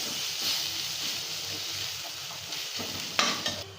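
Food stirred and fried in a pan after adding chili powder, a steady close sizzle with intermittent scraping stirs and a louder spatter of activity near the end.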